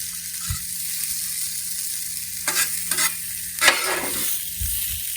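Meat mixture sizzles on a hot Blackstone griddle while making pizza, a steady broadband hiss punctuated by a few short scraping strokes, close and alone without speech.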